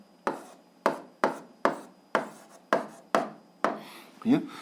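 A pen writes out an answer to an algebra exercise, giving about eight close, crisp scratching strokes in a steady rhythm, each starting sharply and trailing off, with no voice over them.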